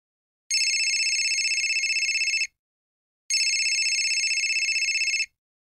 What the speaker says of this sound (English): My mobile phone rang and I jumped out of bed.